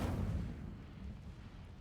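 An Incendio fire spell cast in a Harry Potter video game bursts out as one fiery, explosive whoosh at the start, then fades into a low, lingering rumble.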